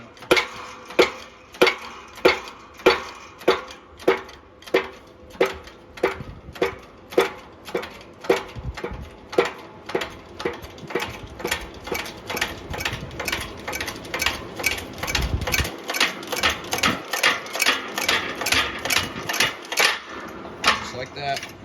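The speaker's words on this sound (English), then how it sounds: "getting ready to push the wheel bearing out. I'll show you how good this tool is." A bearing press tool pushes the wheel bearing out of a Polaris RZR XP Turbo hub, giving a steady run of sharp, evenly spaced mechanical clicks that grow denser and louder over time, with no talk.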